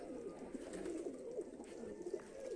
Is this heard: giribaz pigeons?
yes